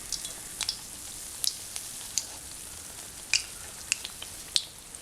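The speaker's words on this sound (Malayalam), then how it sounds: "ഇപ്പോൾ തിരിച്ചും മറിച്ചൊക്കെ ഇട്ടിട്ടൊന്ന് ഫ്രൈ ചെയ്തെടുക്കാം." Kerala split cake dough frying in hot oil, turned over in the pan, giving a faint steady sizzle with scattered sharp pops and crackles spread across the stretch.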